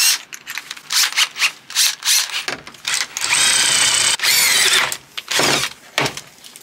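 A power drill whines in repeated bursts, drilling out metal bolts in a Volkswagen Caddy van floor, with a long sustained run in the middle, loud and close.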